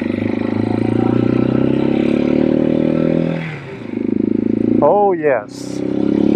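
A Janus Halcyon 250 motorcycle engine idles and revs, making a loud steady drone that dips briefly and then picks back up, with a voice speaking over it near the end.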